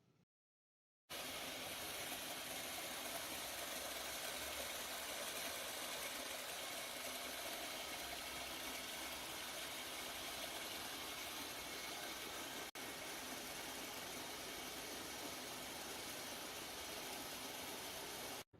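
A Blackmer MAGNES sliding vane magnetic drive pump runs dry at the end of a dry-run test, giving a loud, steady, hissing mechanical drone that starts abruptly after a moment of silence and holds unchanged to the end.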